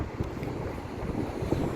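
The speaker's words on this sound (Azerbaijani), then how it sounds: "Hava da biraz küləkdir, sərindi." A cool breeze blows outdoors on a city street, a moderate, steady low rumble of wind against the microphone with small gusts and no talking.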